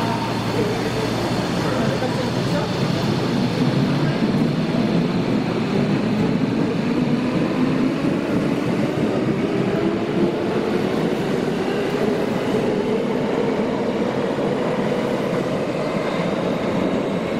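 A Tokyo Metro Hibiya Line train arrives at a station platform with a steady loud rumble and rising wheel and motor whine, close by and continuous, while a station announcement voice speaks over it.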